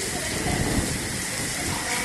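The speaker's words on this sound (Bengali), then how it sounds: "বাইরে প্রচুর বৃষ্টি হচ্ছে" Heavy rain pours down outside a school during Cyclone Remal, with wind in the garden trees. It makes a dense, steady roar of constant hiss, loud and close, and no distinct drops stand out.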